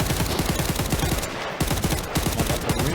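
Automatic 5.45 rifle fire in Arena Breakout Infinite, a loud close rapid stream of shots in steady rhythm with a brief gap midway, no talk.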